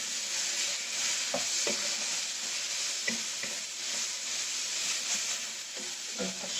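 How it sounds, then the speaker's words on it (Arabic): Chicken pieces frying with onion in a pan for chicken and seafood paella, a steady bright sizzle with scattered soft scraping and stirring knocks throughout. "وغنحركوهم مع هاد البصيله مزيان حتى ياخدو اللون"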